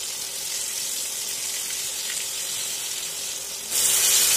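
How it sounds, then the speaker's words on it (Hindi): Eggplant pieces fry in a pan for baingan kalonji, giving a steady, close sizzling hiss that grows louder near the end, with no talking. "बैंगन को चारों तरफ से फ्राई कर लेना है।"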